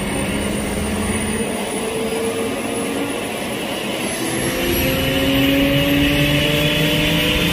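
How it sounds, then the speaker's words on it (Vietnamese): An airplane engine near Ha Long spools up, a loud steady jet roar with rising whining tones that swells further in the last few seconds. "bắt đầu máy bay đang khởi động"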